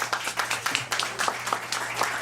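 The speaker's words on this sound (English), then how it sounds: "Can y'all give her a round of applause?" A fairly faint round of audience applause for a speaker's mother, scattered claps from a crowd at a moderate distance, brief and fairly even throughout.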